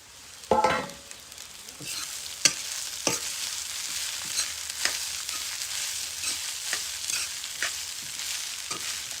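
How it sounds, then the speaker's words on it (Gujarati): Poha and potatoes are stir-fried in a pan under a continuous bright sizzle, punctuated by an initial clatter and repeated spatula scrapes and taps at an irregular pace. "હવે આપણે નાખી દઈએ પૌવા."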